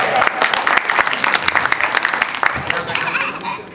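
A crowd at a stage event during a Hindu devotional night (Mata ki Chauki) breaks into loud, sustained clapping, with some laughter and voices mixed in.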